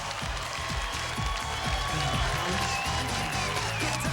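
A beach volleyball crowd at a 1998 King of the Beach match cheers and applauds a blocked stuff, a dense continuous roar of clapping and shouting from many people, steady and moderately loud throughout.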